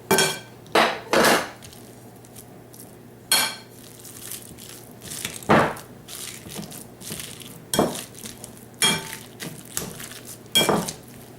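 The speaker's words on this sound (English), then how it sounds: "I have a masher, just a hand masher, and I mash it up" A hand masher works through cooked Connecticut Field heirloom pumpkin with a series of close, sharp thuds and clacks against the bowl, irregular at first and then steadier and softer, with no talking.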